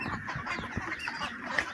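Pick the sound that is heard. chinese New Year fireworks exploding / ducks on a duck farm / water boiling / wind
ducks on a duck farm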